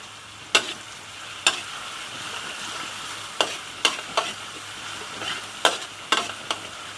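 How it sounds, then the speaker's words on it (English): Lemongrass and spices stir-fried in a pan for pork rendang, a low steady sizzle punctuated by sharp scrapes and knocks of the spatula at irregular intervals, close and fairly quiet. "You stir it until it's aromatic."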